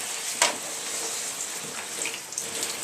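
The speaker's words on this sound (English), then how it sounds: "Just give it a good rinse down." Amstrad CPC 464 plastic case parts rinsed under running water at a sink, a steady close splashing hiss with a brief louder splash early on.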